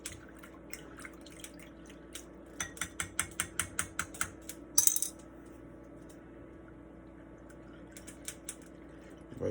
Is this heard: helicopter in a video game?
no